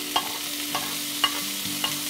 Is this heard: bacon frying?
yes